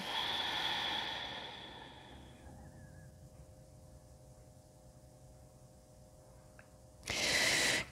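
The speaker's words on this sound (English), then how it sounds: "Breathing." Slow, soft breathing during a gentle seated chair yoga class, a long airy exhale followed by quiet, then a brief louder breath near the end, close and without talk.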